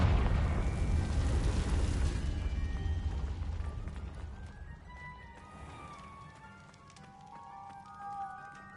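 A loud burst opens the scene as the Confringo explosion spell goes off in Hogwarts Legacy, a heavy rumbling blast that decays over several seconds into quieter magical shimmer and ambient game sounds.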